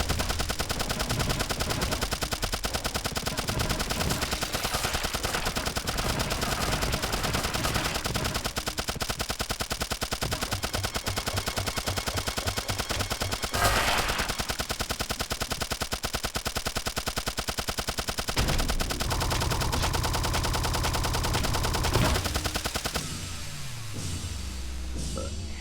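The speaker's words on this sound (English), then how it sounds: "stand close and unleash your SMG at him" Rapid SMG gunfire in the Turnip Boy Robs a Bank video game, sustained fast bursts of shots that run almost continuously, loud and dense, with a brief pause and a change in the background sound near the end.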